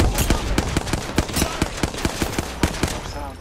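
Rapid automatic gunfire in the video game Apex Legends, a dense run of sharp, evenly spaced shots firing loud and close, with no talk over it.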